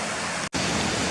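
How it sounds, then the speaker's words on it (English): Waterfall in Swinner Gill near a wooden footbridge and old mine ruins, a loud, steady broadband rush of falling water filling the clip, broken by one brief dropout midway. "I'm at the mine ruins at the start of the SWINNERGILL, where the waterfall's come down"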